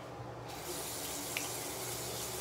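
Warm water running steadily from a bathroom tap into a sink, a continuous close hiss with no talking.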